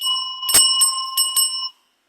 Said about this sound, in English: Penelope stands in front of the suitors and strikes a bell to gain their attention.